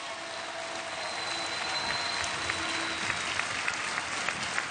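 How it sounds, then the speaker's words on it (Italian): Loud, sustained applause from a large crowd at the opening ceremony of World Youth Day in Panama, a dense steady roar of many hands that swells slightly, with a few sharper claps standing out toward the end. "Un grande applauso, forte."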